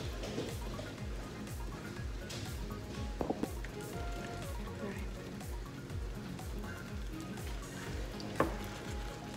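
Homemade sofrito cooking over medium-high heat, a steady, fairly quiet sizzle and crackle of frying with a few small clinks, going on continuously throughout.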